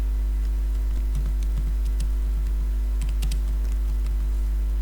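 Computer keyboard typing while writing a basic HTML page, scattered light key clicks over a loud steady electrical hum, close and irregular.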